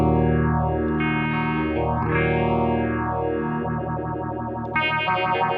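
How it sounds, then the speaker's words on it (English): Electric guitar runs through a Boss PH-1r phaser pedal set with its resonance all the way down: held, sustained notes swirl under a slow, sweeping phase effect, loud and alone. "So here's the PH-1r. I've got the resonance all the way down to see if it sounds like the PH-1."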